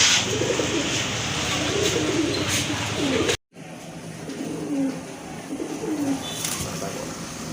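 A pair of Chila pigeons coo softly in low, throaty murmurs, repeated over steady background noise, with a brief silent break midway.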